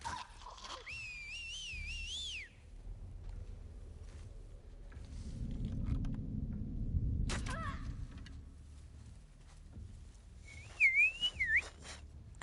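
A person whistles a short rising-and-falling tune up close at the start, then again more briefly near the end, with a quiet rustling, shuffling room in between.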